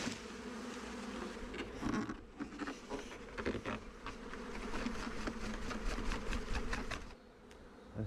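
A swarm of bees buzzes around a tree outdoors, a dense, steady drone that stays loud and close throughout with no break.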